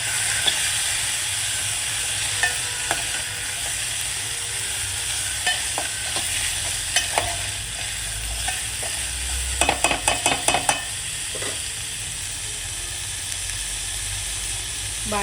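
Potatoes frying in spiced oil in a pan, a continuous sizzle with intermittent scraping clicks of a spoon stirring, a cluster of quicker stirring knocks midway.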